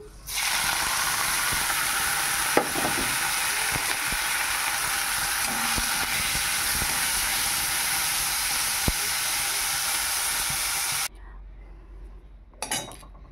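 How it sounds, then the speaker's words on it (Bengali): Small local prawns fry in a wok with a loud, steady sizzle in hot oil and occasional clinks of a utensil, cutting off abruptly near the end. "এবার দিশি কুচো চিংড়িগুলো ভেজে নেব"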